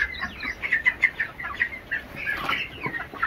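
Chickens on a poultry farm housing about four thousand young birds, giving repeated clucks and chirps in a busy close-up chorus with some wing flapping and no talk.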